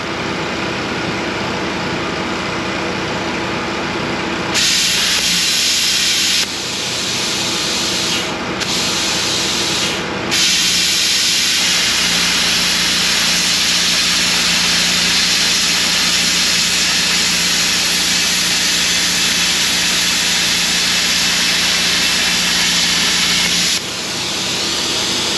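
A plasma cutter slices a steel scraper blank in one long, loud, steady hiss, with brief stops and restarts early on before the cut runs continuously to the end.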